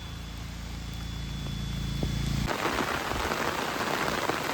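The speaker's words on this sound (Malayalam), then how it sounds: "ഏലത്തോട്ടത്തിൽ കൂടെ ഒരു മഴ പെയ്യുന്ന കണ്ടിട്ടുണ്ടോ" Steady rain starts suddenly partway through on a cardamom plantation, a dense patter of drops hitting leaves and surfaces after a quieter, humming start.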